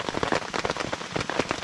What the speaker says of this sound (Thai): แล้วก็มีฝนตกลงมาตั้งแต่เช้าเลยนะครับ